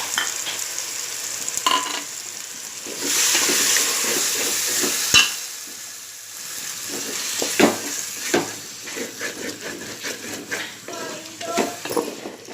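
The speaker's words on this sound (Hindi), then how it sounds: "अब मैं इसमें दही डालूंगी" Yogurt goes into a spice mix frying for prawn biryani, giving a steady sizzle with stirring scrapes and a few clinks of utensils against the pan. A voice talks in places over the cooking.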